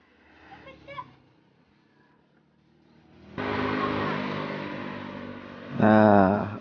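A Steyr 1000cc vehicle fitted with an extremely modified Daihatsu Hijet 1000 engine sits quietly, then roars into a loud, sustained rev that rises sharply in pitch near the end; a voice murmurs faintly early on.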